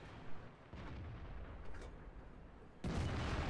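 Artillery fires in World of Tanks as muffled distant booms roll through the quiet battlefield, ending in one sharper, heavier blast near the close.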